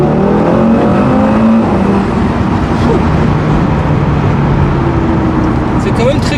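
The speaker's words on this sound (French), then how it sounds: "je vais faire une petite accélération" An Audi RS3 sedan with 400 hp, in sport mode, accelerating on a road: a loud, continuous engine roar with rising revs and gear changes, close and dominant throughout.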